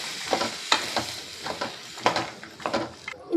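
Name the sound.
stirring potato and green peas curry in a pan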